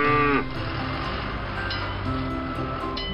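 A cartoon cow in a children's farm-toy animation moos briefly and loudly at the start, then gives way to a steady musical background.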